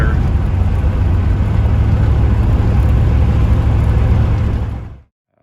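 A C4 Corvette project car runs with a loud, steady engine rumble heard close up for about five seconds before it cuts off abruptly to silence.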